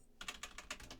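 Quiet computer keyboard typing, a quick run of about seven soft clicking keystrokes in steady rhythm, close and alone with no speech.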